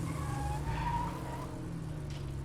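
A sedan in State of Decay 2 skids with a steady engine drone and rising tire squeal, sustained and fairly loud throughout with no talk.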